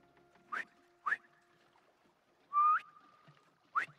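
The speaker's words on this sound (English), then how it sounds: "Try a whistle." Sharp rising whistles sound in a short series of about four separate bursts, one longer and held, used to call pigeons in a Spider-Man 2 video game scene, close and clear over a quiet background.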